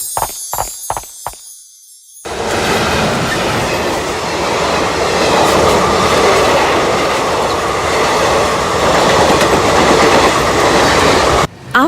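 A train rolls past on railway tracks after a few sharp clicks and a brief silence, a loud steady rumble of wheels and clattering cars that continues close by until an abrupt cut.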